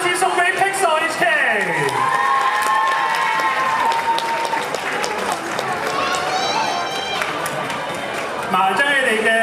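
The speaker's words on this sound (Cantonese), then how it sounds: "將你哋最熱烈嘅掌聲再次送俾 Pixel HK。" Audience applause and cheering for a K-pop cover dance team at a festival final in Hong Kong, a loud, sustained crowd roar with clapping and whoops filling the whole stretch, with an announcer's voice over it.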